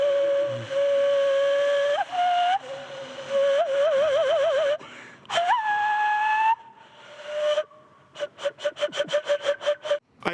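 Whistle-like tones blown through the lips waver, slide and pulse, held in long notes and then broken into quick rhythmic puffs of breath, loud and close.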